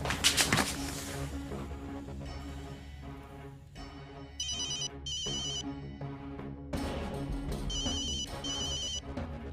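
A phone rings loudly and insistently in a domestic drama, its electronic tone repeating in bright bursts over a low musical background, with no talking.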